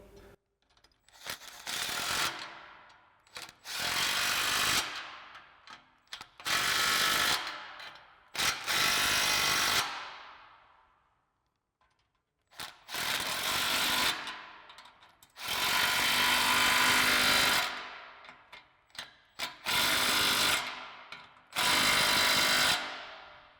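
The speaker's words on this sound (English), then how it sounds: "grab our 15 mil socket on our impact and tighten these down" Impact wrench with a 15 mm socket tightening exhaust band clamps on a Mustang GT X-pipe, a series of loud rattling hammering bursts of one to three seconds separated by short silences, close up with no talking.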